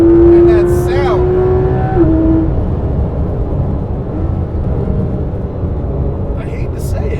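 A loud, close Porsche 991 GT3 RS engine drones and revs, a high whining tone easing off early, then a steady rumbling exhaust note carries on.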